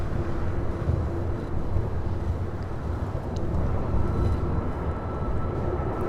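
Boeing 787 Dreamliner at LAX giving a steady, broad low jet engine roar with a faint tonal hum, continuous and fairly distant, no voices.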